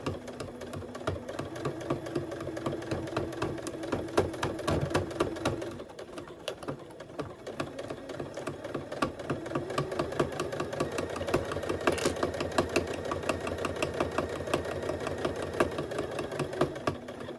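A sewing machine stitching fabric pieces for a heart-shaped zipper pouch, a fast steady mechanical rattle that pauses briefly for the fabric to be turned, then runs on evenly and close.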